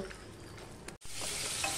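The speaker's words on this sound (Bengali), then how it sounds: "একটা কড়াইতে আমি মাংসের আলু ভাজতে বসিয়ে দিয়েছি" Potatoes for mutton kosha fry in a wok with a quiet, continuous sizzle and light stirring, briefly cut off before resuming at a slightly stronger level.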